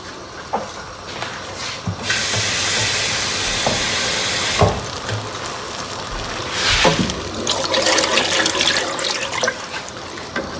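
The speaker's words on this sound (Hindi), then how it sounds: "इसमें आप तकरीबन 4 कप के करीब पानी डाल दीजिए।" Roughly four cups of water poured into cooking minced beef in a pan, a close, rushing splash and hiss that swells and steadies for several seconds, then gives way to bubbling sizzle and scraping.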